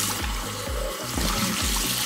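A glass jar engraved with an xTool F1 laser is rinsed clean under hot running water. The water gushes steadily and fairly loudly, with a rhythmic sloshing pulse as it swirls inside the jar. No one speaks.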